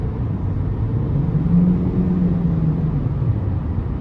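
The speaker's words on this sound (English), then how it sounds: "the engine gets super loud when I floor it, but it pulls" A 2013 Ford C-Max Hybrid SEL with a 2.0 engine revving steadily under hard acceleration, a continuous loud droning hum with rising pitch heard from inside the cabin, no talking.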